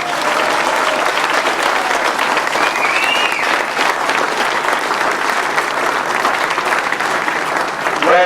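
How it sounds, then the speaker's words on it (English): Warm, generous crowd applause at a 2008 international grasstrack race, sustained dense clapping from a large audience lasting throughout, with faint voices mixed in. "Reg, once again, the applause is warm and generous."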